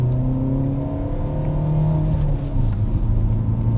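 A Kia car's engine revs and pulls under acceleration, a loud, steady low drone with rising tonal whine heard from inside or close by, with no talk.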